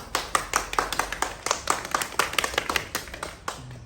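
Small group clapping at an Independence Day flag hoisting, with a roughly regular, uneven series of distinct claps, close and moderately loud, with faint voices in the background.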